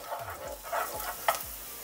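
Sliced garlic sizzling in about two spoons of cooking oil, a close, soft crackle with a few stirring scrapes over under two seconds.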